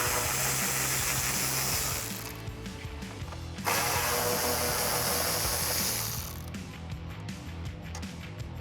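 A hand ratchet loosens 10mm bolts from a 2018-2020 Ford F150 headlight, with rapid clicking pawl bursts, a brief pause, then another close, loud run of ratcheting.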